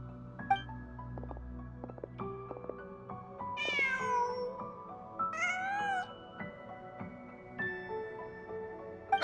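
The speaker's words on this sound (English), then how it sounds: "Just a cat." A cat in the video game Genshin Impact meows several times, with high, bending cries in two or three bursts over soft, sustained in-game musical tones.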